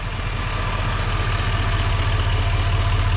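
A 2020 GMC Sierra 3500 Denali with a 6.6-liter Duramax turbodiesel idles close by, a steady low rumble with an even, rapid diesel throb that holds without change throughout.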